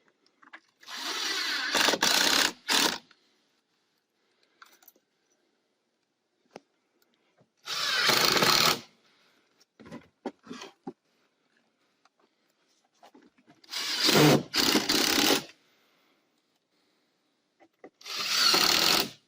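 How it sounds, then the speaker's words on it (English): A power drill driving screws into a mobile home window frame, four separate loud whirring bursts spaced out with quiet pauses between them and a few small knocks in the gaps. "now put screws on it."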